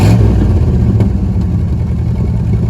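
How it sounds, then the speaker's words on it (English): A 1973 Chrysler Newport with a 400 V8, freshly pulled from a junkyard, runs loud and close, its engine held at a steady, rough rev with a deep rumble and no voices over it. "I just revving it for the hell of it."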